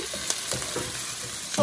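Garlic and thyme sauté in a hot pan with a steady, close sizzle and crackle, loud and continuous for a brief moment with no talking.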